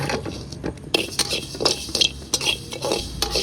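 Raw rice is dry-roasted in a pan and stirred, giving close, repeated rattling scrapes and metallic clinks of a utensil against the pan in an irregular rhythm.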